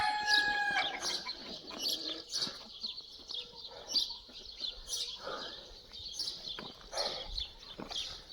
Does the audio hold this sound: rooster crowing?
yes